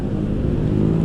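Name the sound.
motorcycles riding together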